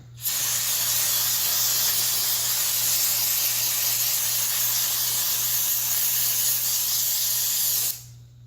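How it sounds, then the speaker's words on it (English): Carburetor cleaner sprays onto a motorcycle chain in one loud, continuous hiss that lasts about eight seconds, close up and steady, then cuts off abruptly. "Take the carburetor cleaner,"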